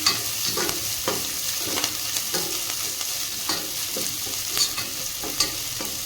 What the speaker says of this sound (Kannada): ಉಳ್ಳಾಗಡ್ಡಿನ ಇದಕ್ಕೆ ಹಾಕ್ತೀನಿ. ಈಗ ಇದಿಷ್ಟು ಚೆನ್ನಾಗಿ ಫ್ರೈ ಆಗಲಿ.